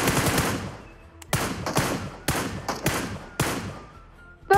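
Repeated bursts of rapid gunfire shooting enemies in a video game, loud and close, several separate volleys with short gaps between them.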